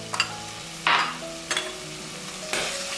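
Onions with ginger garlic chili paste sautéing in a pan for chicken biryani, a loud close sizzle punctuated by four distinct stirring scrapes.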